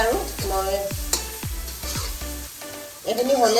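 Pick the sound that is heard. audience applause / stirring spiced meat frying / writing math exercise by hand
stirring spiced meat frying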